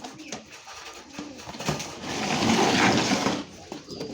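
Pigeons coo from a loft of breeding and flying birds, a soft rolling murmur that rises through the middle of the clip, with scattered fluttering and rustling noises.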